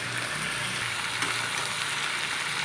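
Jackfruit seed, potato and pointed gourd curry being stirred in a kadai over low heat, giving a steady, close, even sizzle throughout with no voices.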